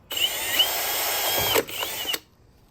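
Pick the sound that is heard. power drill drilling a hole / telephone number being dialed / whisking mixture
power drill drilling a hole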